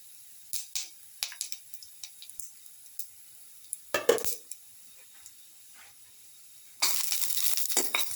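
Garlic goes into a pan for a fish tamarind stew: scattered clinks and scrapes of a utensil against the pan with brief pauses, then a steady close sizzle of frying takes over near the end.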